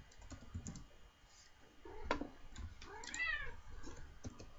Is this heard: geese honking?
no